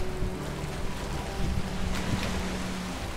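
Wind sweeps past a sailing boat in the video game Valheim, a steady rushing gust with a watery wash beneath it and faint tonal hums, sustained throughout with no talking.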